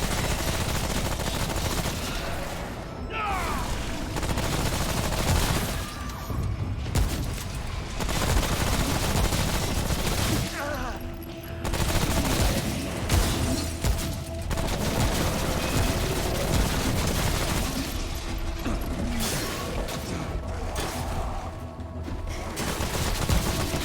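Rapid gunfire from the video game Remnant: From the Ashes: repeated bursts of automatic shots and fusillades, loud and close, running almost continuously with brief lulls between volleys.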